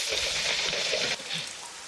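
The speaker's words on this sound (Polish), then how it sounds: "Poranek po prostu na ulewie." Heavy downpour in a Madagascar forest, a dense steady hiss of rain close by that eases slightly partway through, with no voices.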